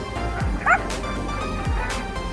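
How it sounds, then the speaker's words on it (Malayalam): An AI-generated cartoon dog with a slightly altered voice gives two short, clear barks about a second apart, with a brief high yip between them, over a faint steady background. "ഒരു പട്ടിയെ ശബ്ദം ചെറുതായിട്ട് ചേഞ്ച് ആക്കിയിട്ടുണ്ട്"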